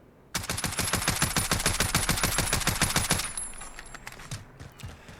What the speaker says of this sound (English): Let's now do full auto in prone, and I'm going to control it.